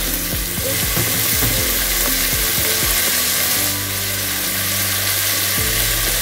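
Mutton frying together with onions in a pan, a steady close, loud sizzle with occasional stirring scrapes throughout.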